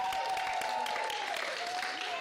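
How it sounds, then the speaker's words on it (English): A crowd applauds steadily for a couple of seconds at a 2025 state of the city address, a dense, continuous wash of clapping from a large indoor audience. "Give them a round of applause."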